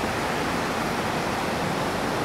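Rushing mountain river at the foot of the mountains in Nikko, Japan, giving a constant loud, broadband roar of churning water with no pauses.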